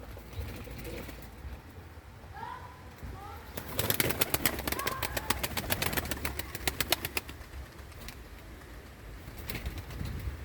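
Tumbler pigeons flying overhead, with soft cooing early on and then a burst of rapid rhythmic wing-flapping that rises for a few seconds before easing off, faint and somewhat distant over low background rumble.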